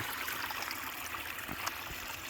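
Water recirculating through a Gold Cube gold prospecting sluice, a steady close trickling and gurgling stream that runs continuously with small splashy surges and no voices.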